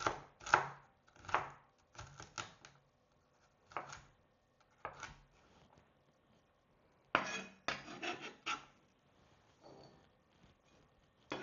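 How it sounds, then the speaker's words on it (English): Knife chopping celery on a cutting board in a farm kitchen, sharp clustered thuds in quick bursts separated by short pauses, close and clear with no talking. "So I like to take my celery and slice it down the middle a few times because I want it to be very small."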